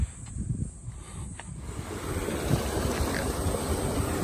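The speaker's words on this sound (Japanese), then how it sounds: "水の音は涼しいですね。" Steady rushing water with a broad, airy hiss, constant and fairly close, with no voices.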